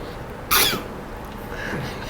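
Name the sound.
cough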